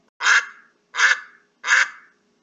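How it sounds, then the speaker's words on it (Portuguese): Three loud, nasal duck quacks come in a steady, evenly spaced series, close and clear with nothing else around them. "Lá vem um pato, patati, patacolar,"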